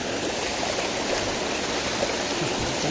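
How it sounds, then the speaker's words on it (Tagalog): A mountain stream rushing loudly and steadily nearby, a dense unbroken roar of water with no voices. "Lakas ng lagaslas niya mga kaprabis."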